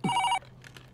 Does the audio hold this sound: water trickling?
no